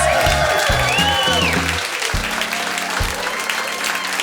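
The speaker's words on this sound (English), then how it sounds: "Give yourselves a round of applause" A live studio audience claps in a steady wash of applause, with music or other sounds running underneath.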